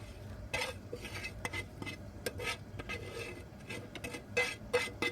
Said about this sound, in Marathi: आता आपण हा ठेचा एका प्लेटमध्ये काढून घेऊया